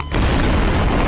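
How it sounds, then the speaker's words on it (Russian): A loud, close explosion in the Garry's Mod video game, a sudden broad roaring boom that sustains as rumbling noise through the whole moment, with no voices. "Вот это взрыв."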